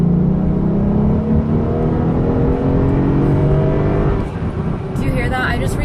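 A 2014 Mercedes SL 550's engine drones and whirs from inside the cabin as it speeds up to nearly 90 mph, a steady low rumble with a voice speaking over it.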